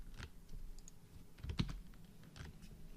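Soft, irregular keystrokes tap on a computer keyboard at close range, with a slightly louder cluster of clicks midway, while someone types text into video effects software.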